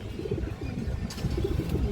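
Giribaz high-flyer pigeons coo in soft, low, throaty rolls, close by and repeating through a short stretch, with a brief rustle partway.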